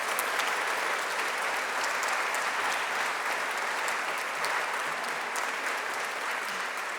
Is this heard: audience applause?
yes